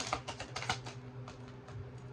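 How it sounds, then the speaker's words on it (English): A deck of cards shuffled up close, a quick series of crisp riffling bursts that fade into softer flicks, with no voices. "I'm shuffling this deck real quick."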